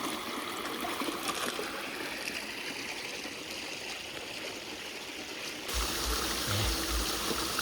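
Water pours steadily through a small garden waterfall with a new circulating pump system, making a continuous close splashing and trickling wash with no pauses.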